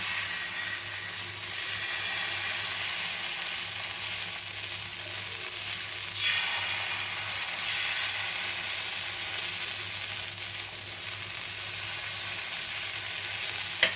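Idli batter for mini uthappam fries on a hot oiled pan, producing a steady, even hiss that holds throughout with little change and no talking.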